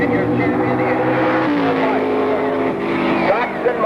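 Drag racing cars roar on the track at an NHRA event, engine tones sweeping and shifting under a commentator's voice.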